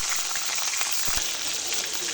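Tangra fish dropped into hot oil with ground ginger, garlic, cumin and onion paste, giving a steady close sizzle and crackle that runs evenly throughout without pause.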